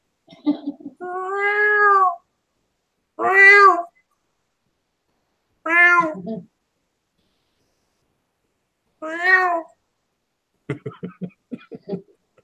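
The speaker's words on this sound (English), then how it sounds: "cat sounds sick" A cat meows several times with long, drawn-out, strained cries separated by pauses, then a short burst of quick broken sounds at the end.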